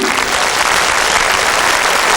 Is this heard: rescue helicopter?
no